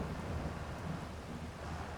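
Rain in Farming Simulator 22, a steady, dense wash of rainfall noise with a low rumble, even and unbroken throughout.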